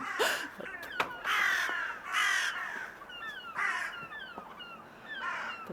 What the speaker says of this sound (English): The birds are all waking up.